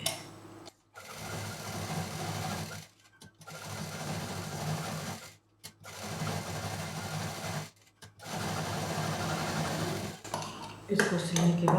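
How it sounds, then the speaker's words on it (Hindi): A sewing machine stitches around all four edges of a patchwork piece made from two contrasting fabrics. It runs close and steady in four long bursts, with brief stops between them. "अब इसको हमें चारों तरफ से सिल देना है"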